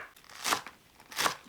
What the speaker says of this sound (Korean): 파 1줄을 썰어 주세요. 1cm 두께로 숭덩숭덩 썰어요.